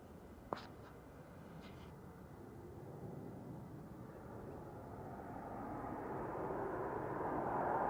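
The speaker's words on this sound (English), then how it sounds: "Ryanair just touching down on 23 right." A Ryanair airliner landing on runway 23 right at Manchester Airport, a faint, distant engine rumble that slowly swells louder toward the end, after a brief sharp click near the start.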